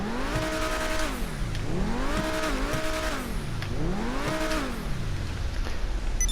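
A Progen T20 supercar in GTA Online revs repeatedly, its turbocharged engine swooping up and down in pitch in three rising and falling sweeps, loud and steady with no talking.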